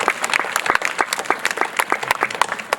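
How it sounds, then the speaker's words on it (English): A ceremony audience at a closing event gives a dense, steady round of applause, many hands clapping at once with no voices on top. "So just a round of applause."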